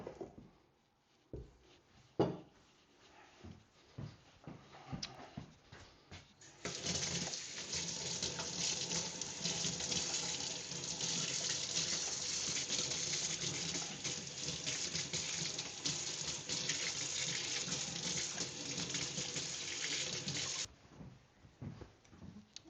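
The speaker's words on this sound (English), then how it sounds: "I'm going to clean the whisk and come back" A KitchenAid whisk is rinsed under a running kitchen tap: about fourteen seconds of loud, steady rushing water, with scattered knocks and handling clatter before and after.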